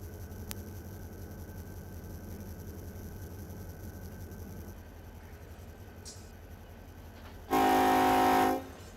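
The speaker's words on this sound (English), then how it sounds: "Oh hey, slow down, train." A train rumbles past with a steady low drone in Run 8 Train Simulator, then a loud horn blast sounds near the end.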